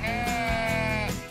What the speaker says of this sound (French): À Carnac, les moutons gardent les menhirs.